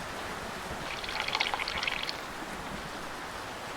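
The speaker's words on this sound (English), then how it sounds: "I'm gonna bail some water." Water sloshing and splashing as a boat is bailed out in the sailing game Sailwind, a brief burst of trickling, pouring water rising over a steady wind-and-sea wash, with no talk.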